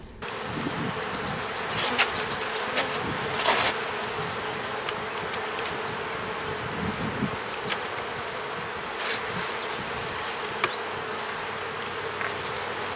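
A dense, continuous buzzing of many honey bees around a ten-frame hive fills the clip, close and loud, with scattered soft knocks and no speech.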